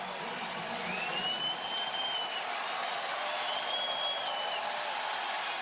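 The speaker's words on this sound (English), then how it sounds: "I just wanted to hear the crowd when he came running out on the field" A stadium crowd roars steadily at an NFL game between the Miami Dolphins and New England Patriots as rookie quarterback Mac Jones runs onto the field, a dense unbroken wall of cheering with a couple of whistles rising above it.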